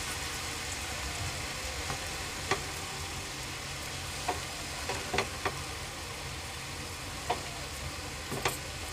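Bitter gourd (karela) fries in a pan over a medium flame with a steady soft sizzle, and occasional light clicks and scrapes of a spoon stirring the slices.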